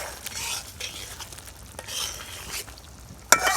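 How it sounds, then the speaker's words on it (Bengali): Small pieces of meat for haleem being sautéed in a pan with a splash of water, giving a hissing sizzle under intermittent spoon scrapes and a sharp clink of metal near the end, close with no talking. "কষাই নিতেছি একটু পানি দিয়ে দিলাম"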